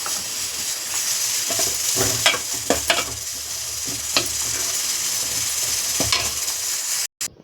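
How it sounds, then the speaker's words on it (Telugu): Capsicum fries in a pan with a steady, close hiss of hot oil, broken by several sharp scrapes and clinks from a utensil stirring, until the sound cuts out abruptly at the end. "ఇప్పుడు క్యాప్సికమ్ వేగింది"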